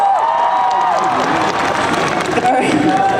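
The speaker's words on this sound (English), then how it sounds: "a huge round of applause" Crowd applause and cheering at a college spring festival's rooster-catching and snail-eating contest, with whoops over steady clapping and a voice talking through much of it.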